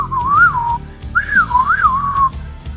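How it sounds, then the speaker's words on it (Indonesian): Sharp, piercing whistling in an Indonesian audio drama, two shrill wavering melodic phrases with a brief pause between them, loud and close over a low rumbling musical backdrop. "terdengarlah suara siulan yang amat tajam membawakan lagu hiruk pikuk"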